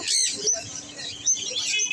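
Turquoisine parakeets at a busy bird market, giving several short, high, bright chirps and tweets close by over two seconds.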